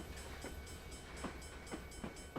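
A freight train in Train Simulator 2020 rolls steadily on the NS N Line, with a constant low rumble and faint periodic clicks of wheels over rail joints.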